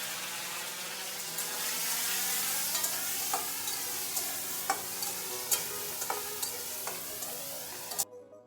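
A pan sizzles steadily as potato pieces fry in oil with turmeric and salt, with occasional sharp clinks and scrapes of stirring over the hiss, ending in a sudden cut.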